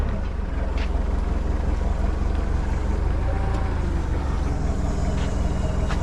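A forklift engine at a BBQ food truck business drones and revs steadily as it lifts a pallet, a loud, constant low rumble with some wind noise over the microphone.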